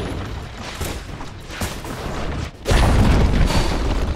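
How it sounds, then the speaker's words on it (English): A tower collapses in the Dota 2 video game amid battle noise, a series of impacts and mechanical clatter building until a heavy, booming crash that sustains loudly to the end. "Dire's bottom tower has fallen"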